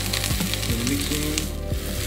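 Leftover rotisserie chicken, seasoned with salt and pepper, sizzles steadily in a hot pan, a close, continuous frying hiss with light stirring clicks.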